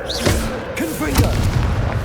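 Confringo blasting spells burst in the Hogwarts Legacy video game, a few sharp booming impacts in quick succession, loud and close, with game effects in between.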